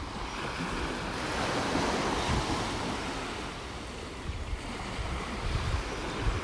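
Steady ocean surf washing and breaking continuously on a beach in North Naples, Florida, a broad rushing roar with some wind buffeting the microphone.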